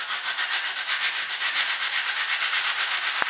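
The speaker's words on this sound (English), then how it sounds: "stirring up the colour hardener and resin, which is a floor sealer" Colour hardener and resin floor sealer stirred in a container, a steady close rubbing, scraping swish that continues without break and with no voices.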